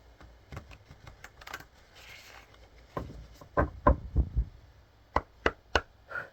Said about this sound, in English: We're going to give it a nice shuffle.